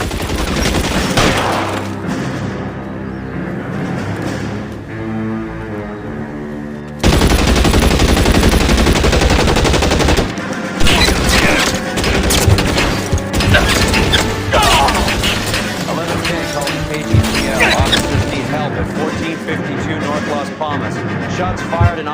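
Heavy gunfire in L.A. Noire bursts in after a quieter stretch, rapid repeated shots and crashes dominating at close range, with overlapping chatter and game sounds.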